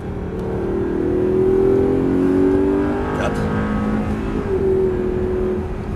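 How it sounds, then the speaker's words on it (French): Steady, strong engine note of an Audi R8 4.2 pulling hard as it accelerates, the pitch climbing and dipping through the gears, heard from inside the car with a short spoken word over it. "Et on débraque, on accélère."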